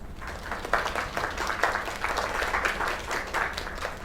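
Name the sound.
audience applause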